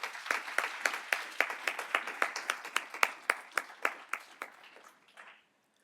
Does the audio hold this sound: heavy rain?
no